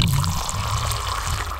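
Boiling water pumps out of a push-top thermos, a steady pouring, trickling flow of hot liquid that runs alone and close for under two seconds.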